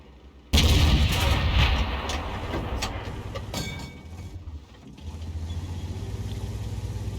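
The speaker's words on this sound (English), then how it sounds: "We're still blind firing, trying to hit the enemy." Heavy tank guns from the World of Tanks video game fire in a sudden loud blast that rolls into a long rumbling tail, with mechanical clatter and a steady low engine drone continuing beneath.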